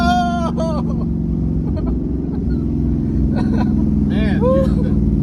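An S550 Ford Mustang fitted with an MSD two-step spins its wheels with a steady, loud low engine roar and tyre rumble throughout, while people shout excitedly over it.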